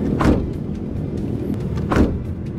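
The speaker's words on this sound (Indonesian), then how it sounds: "Dan bunyi ketutupnya juga masih termasuk oke." The front door of a Toyota Calya 2019 facelift shuts twice, each one a short solid thud about two seconds apart, close and fairly loud, with no talking.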